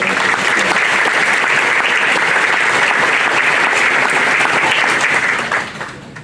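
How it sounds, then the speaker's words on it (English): Loud, dense applause from the audience at an annual meeting honoring district directors, a sustained roar of many hands clapping close by that continues evenly before tapering off at the end. "Let's give them a round of applause."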